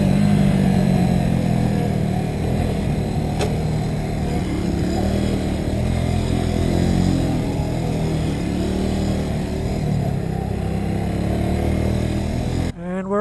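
Kawasaki W175 SE motorcycle (2020) engine droning and revving steadily close by during a lap of a playground course, loud and continuous with no talk, cutting off abruptly near the end.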